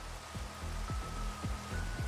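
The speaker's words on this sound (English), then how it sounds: "Then it started raining" Steady rain hisses in the Minecraft video game, a soft even wash of falling water with faint repeated low thumps underneath.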